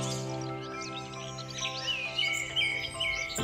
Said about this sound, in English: The diamond firetail is a beautiful, cute, and adorable little bird. It's a finch endemic to Australia.